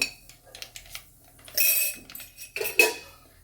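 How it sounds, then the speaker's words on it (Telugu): Mustard seeds go into hot oil in a pan for tomato pickle. A few light metallic clinks of a spoon come first, then two short bursts of crackling sizzle, close and moderately loud. "ఇదిగోండి ఆయిల్ హీట్ అయింది ఈ టైంలో రెండు స్పూన్లన్నీ ఆవాలు"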